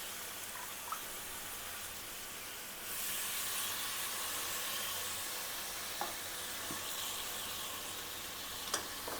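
Chicken pieces frying in oil for chicken fry biryani, a steady close sizzle and hiss that grows denser partway through, with a few soft stirring clinks and taps and no talk.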